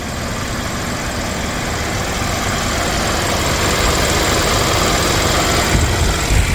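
Engine of a 2015 Kia Optima EX running steadily, a continuous broadband idle hum with a slight rise toward the end, close and loud with no talking.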